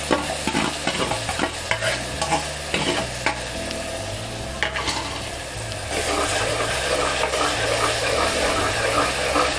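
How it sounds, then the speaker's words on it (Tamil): Ground onion-tomato paste for country chicken rasam sautés in oil, with a steady loud sizzle and repeated scraping stir strokes of a spoon in the pan, continuous and close with no talking. "நல்லா எண்ணெயிலேயே வதங்கணும் பாருங்க. நல்லா வதக்கி விட்டுக்கோங்க."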